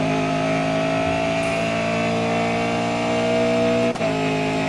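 Touring race car engine in GRID Autosport holds a steady high drone at near-constant revs along the start-finish straight, loud and close, with a brief dip near the end.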